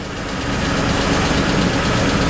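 Idling 3.0 GDI engine of a Mitsubishi Pajero 3 runs as a steady, dense rumble, close and loud, with no voices over it.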